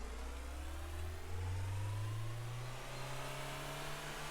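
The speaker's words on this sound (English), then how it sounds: "Truck doesn't handle that great at high speeds." A truck engine in the Factory Runner video game accelerating, a steady drone whose pitch climbs as it speeds up, continuous and fairly close with no talking.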